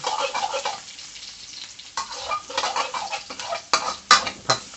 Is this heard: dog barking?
no